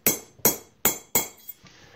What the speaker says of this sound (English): take a sharp punch, punch a hole in the plug